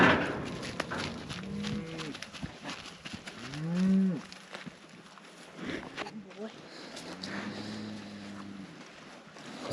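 Cattle moo several times, some long and drawn out, over a steady background of wind rumble outdoors.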